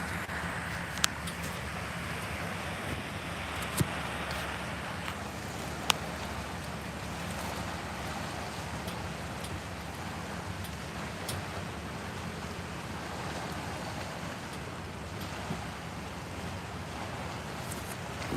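Steady wind and lapping water on a lake, a constant rushing wash with a few faint knocks, no one speaking.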